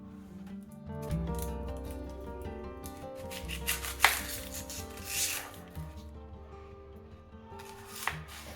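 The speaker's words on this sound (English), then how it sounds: "Cut and don't mix the vegetables." A knife cuts firm tomato, onion and other vegetables on a board for a homemade whole wheat pizza. Soft, irregular chopping knocks sound up close in a quiet kitchen.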